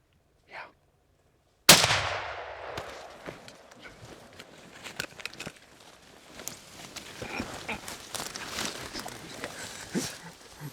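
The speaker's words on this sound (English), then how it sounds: "Shoot him." A single loud gunshot cracks near the start and rings out over an outdoor hunt, followed by rustling, scattered knocks and movement sounds.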